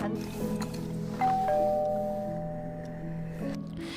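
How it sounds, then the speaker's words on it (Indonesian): A doorbell chimes inside an apartment at night, a clear tone that holds and slowly fades over a steady background hum and faint music. "malam itu mendengar bel pintu berbunyi"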